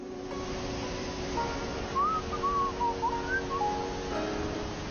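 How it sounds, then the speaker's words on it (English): Someone whistles a faint, wavering tune of short rising and falling notes, set back under a steady background noise. "this guy is still just whistling in the background."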